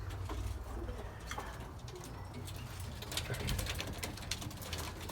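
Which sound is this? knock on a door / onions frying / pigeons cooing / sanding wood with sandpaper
pigeons cooing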